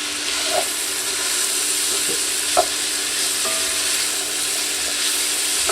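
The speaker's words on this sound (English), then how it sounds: "We want it to warm until the fennel and the onions start to turn translucent" A medium fennel bulb and onions cook in a pot for seafood chowder, giving a steady, soft sizzle and hiss with a few light stirring clicks, close by and without voices.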